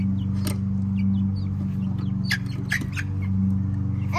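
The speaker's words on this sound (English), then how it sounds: "Chickens are making me scared now." Chickens cluck and squawk in short bursts close by, scattered over a steady low mechanical hum.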